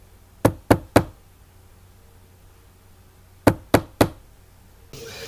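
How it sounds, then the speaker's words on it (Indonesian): Knocking on a door: two separate bursts of three sharp raps, close and crisp, with quiet pauses between and no voices. "dia mendengar seseorang yang sedang mengetuk pintu"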